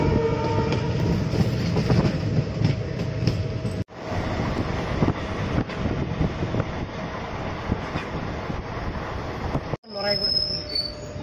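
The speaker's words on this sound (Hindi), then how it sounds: "गुवाहाटी से अभी ट्रेन छोड़ दिया हम लोगों का।" A passenger train pulling out of Guwahati, rumbling loudly on the rails with rhythmic clatter and squealing wheels, continuous and close, with two brief breaks in the sound.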